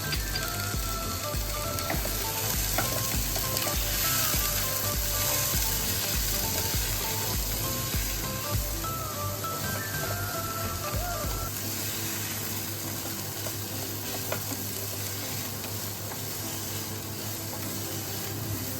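Boiled peas, carrot and green chillies sizzle steadily in a pan over a high flame, a continuous dense crackle of hot oil with no voices.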